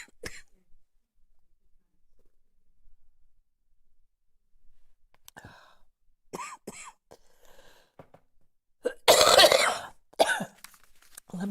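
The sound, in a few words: coughing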